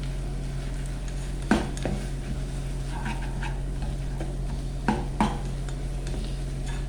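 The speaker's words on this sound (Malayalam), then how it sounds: "ഇപ്പോൾ ഉലുവച്ചീരയും ഉരുളക്കിഴങ്ങും നല്ലപോലെ ഇളക്കി" Fenugreek leaves and potatoes being stirred in a pan for an aloo methi curry, giving a few soft scrapes and clinks of the utensil against the pan over a steady low hum, with no talking.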